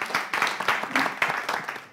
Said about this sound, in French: Je pense qu'on l'acclame.